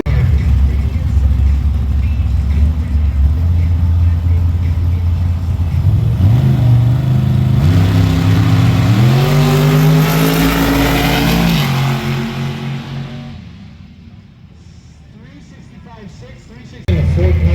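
A dragster engine roars at a sand drag strip race at Dome Valley Raceway, loud and steady, then climbs in pitch with rising revs before fading and cutting off abruptly.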